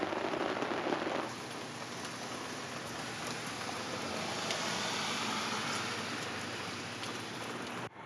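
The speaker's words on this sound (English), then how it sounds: "It's raining." Steady heavy rain, a dense continuous hiss of drops on surfaces, fairly loud and unchanging, no voices.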